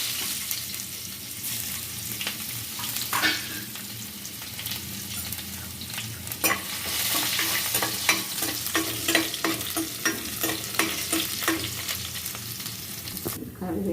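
Mustard seeds and onions sizzle in hot oil in a pan for a Kerala ginger curry, a steady close frying hiss broken by sharp pops and crackles that grow busier midway, with occasional stirring.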